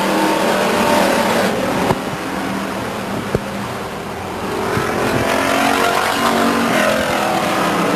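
Race cars roar around the oval at Stockton 99 Speedway, a loud continuous engine drone that swells and fades as cars pass, with a couple of sharp clicks in the middle and no talking.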